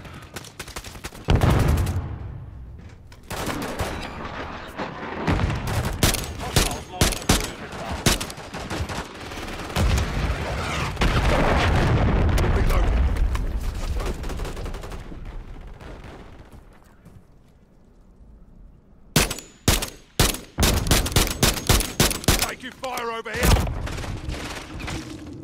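Rapid gunfire and booming explosions from Call of Duty: Modern Warfare III combat, with dense bursts of automatic fire, loud close shots and blasts, and a voice talking over part of the action.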